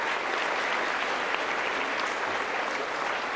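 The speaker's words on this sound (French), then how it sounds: "On peut applaudir." A crowd at a secondary school gala applauds after the opening musical medley number. The clapping is loud, full and continuous, a thick even roar of many hands with no voices rising above it.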